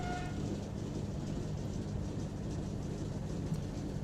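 Steady rumbling train noise from a Great Western Railway steam locomotive in a railway simulation game as it brakes toward a stop, a continuous low mechanical rumble with no clear pauses.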